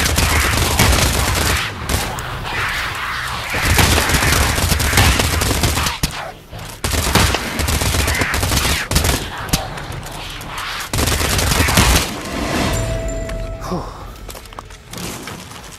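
Rapid gunfire from the VR game Pavlov in zombies mode, dense bursts and repeated shots loud throughout with brief pauses, with a voice talking faintly underneath.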